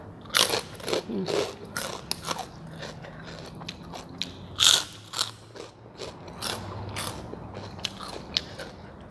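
Someone chews crispy pork rinds with loud, close crunching bites in irregular bursts, with short pauses between mouthfuls.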